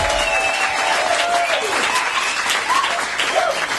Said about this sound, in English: It's a big round of applause here.